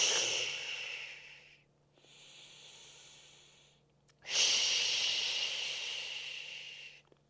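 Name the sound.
exhaling during a core exercise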